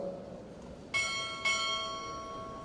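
At a Navy chief petty officer pinning ceremony, a ship's bell is struck twice in quick succession, two sharp metallic clangs that ring on and fade over a quiet room.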